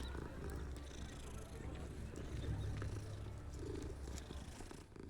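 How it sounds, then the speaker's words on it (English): A cat in Hogwarts Legacy purrs steadily while being petted, a soft continuous rumbling purr under quiet game ambience, faint and close. "Gotta pet the cat."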